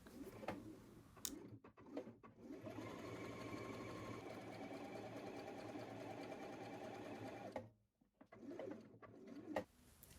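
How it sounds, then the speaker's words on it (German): A sewing machine stitches a dress seam in one steady, whirring run of about five seconds at moderate distance, with quieter handling clicks before and after and pigeons cooing faintly in the background. "links neben der Naht, bis nach unten zur Saumkante nähen"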